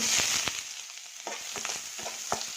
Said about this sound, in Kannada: ಎಣ್ಣೆ ಹಾಕ್ತಾಯಿದ್ದೀನಿ ಒಂದೇ ಹತ್ತು ಸ್ಪೂನ್ ಎಣ್ಣೆ ಹಾಕಿ ಈರುಳ್ಳಿ ಹಾಕ್ತಾಯಿದ್ದೀನಿ